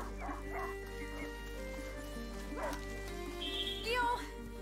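A hunting dog barks and yips in A Plague Tale: Innocence, several short calls scattered over a steady low hum and music, with a voice heard briefly.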